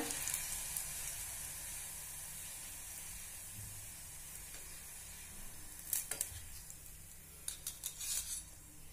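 Dough balls puffing up while they fry in hot oil for a carrot snack, a faint, steady sizzle running throughout, with a few soft clinks of utensils near the end.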